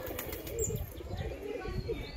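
Two plump pet pigeons are released and take off, their wings clapping and flapping in short bursts near the microphone while people talk nearby.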